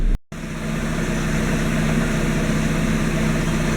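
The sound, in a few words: car engine idling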